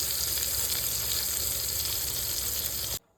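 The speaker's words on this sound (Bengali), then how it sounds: "এখানে সিম আর বেগুন ভাজা হয়ে গেছে" Flat beans and eggplant fry in hot oil with a loud, steady, dense sizzle close up, continuing evenly until it cuts off abruptly near the end.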